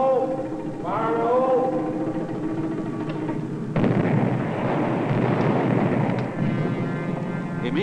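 Underground mining blast going off, a sudden loud rumbling roar that fills the space and sustains with heavy broadband noise before slowly easing.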